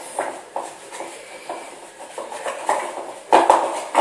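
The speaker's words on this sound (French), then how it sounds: "On va mélanger, il faut que ça fasse une belle pâte." A utensil mixes homemade modelling clay dough in a bowl, making repeated close scraping knocks against the bowl in a loose rhythm that grows louder near the end.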